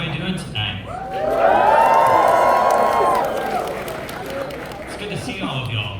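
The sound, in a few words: concert crowd cheering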